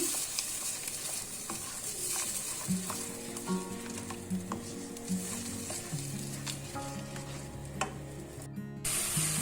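Ground tomatoes and masala frying in hot oil in a pan for an aloo bhindi curry, sizzling steadily and close up, with intermittent scraping and stirring strokes throughout.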